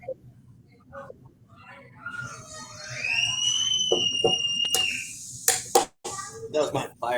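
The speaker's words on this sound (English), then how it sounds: "That was my fire alarm." A home fire alarm goes off with a shrill rising electronic tone that holds for a couple of seconds, loud and close, while a voice and other voices talk around it, followed by some sharp clatter.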